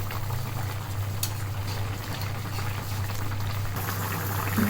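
Pangas fish curry with vegetables bubbling at a steady boil in a cooking pot, a continuous close, moderately loud simmering hiss with a low hum beneath and no talking.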